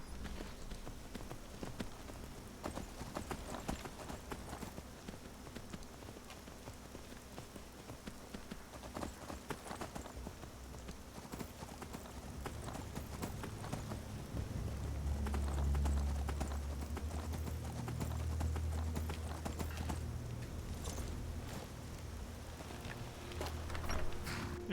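A horse's hooves clip-clop at a steady pace in the Skyrim video game, with a continuous rhythmic patter alongside rain-like ambience and no voices.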